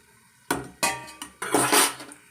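A metal spoon turns aloo coconut bondas in a frying pan of oil, four or five sharp close clanks and scrapes in quick succession, with sizzling behind them.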